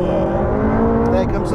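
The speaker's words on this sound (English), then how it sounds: "Here comes the turbo." A McLaren 675LT supercar accelerating hard in second gear from about 2,500 rpm as its turbos spool up, a loud rising engine tone from inside the cabin with a voice talking over it.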